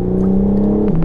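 Engine of a BMW M4 Competition held near 3000 rpm, a steady loud drone with strong low harmonics that dips slightly in pitch near the end.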